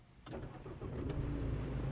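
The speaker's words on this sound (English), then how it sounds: "that engine comes to life" An Isuzu D-Max diesel engine cranks with a couple of sharp starter bursts, then catches and settles into a steady, close, low rumbling idle.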